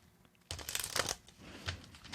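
A deck of tarot cards is shuffled by hand, a brief soft riffling flutter followed by a lighter patter of cards settling, close and quiet with no talking.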